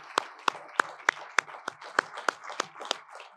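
Applause at a leadership awards dinner, heard as about a dozen crisp, evenly spaced claps in a steady rhythm, close and fairly loud against a quiet room.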